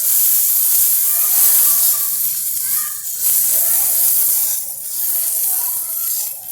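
Cluster beans frying in oil in a pan, a loud, close, continuous hiss and sizzle that swells and dips slightly as they cook.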